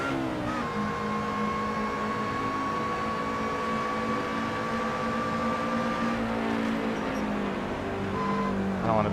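Race car engine from the video game Assetto Corsa, a steady high-revving drone with shifting harmonic tones held throughout, loud and continuous with slight pitch changes near the end.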